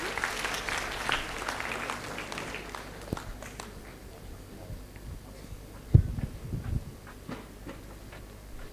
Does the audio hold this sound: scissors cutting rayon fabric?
no